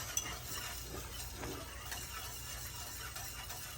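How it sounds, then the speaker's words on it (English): Black pepper is whisked into a creamy Alfredo sauce in a pan, a soft, steady scraping and stirring that runs continuously at low level with a faint clink near the start. "we're just gonna get that whisked in"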